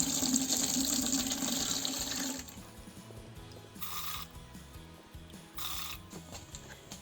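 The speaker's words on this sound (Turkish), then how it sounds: "Tavada kalan suyunu şöyle yine sık dokunuşlu süzekten şöyle fazla dibe dalmadan dikkatli bir şekilde alıp süzüyoruz." Grape juice for village-style red grape pekmez is ladled from a pan and strained through a fine-mesh sieve, with a steady pouring trickle at first, then quieter splashes and short liquid bursts.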